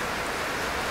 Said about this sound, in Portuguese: Não sei se vocês ouviram, tá trovejando e tá uma chuva.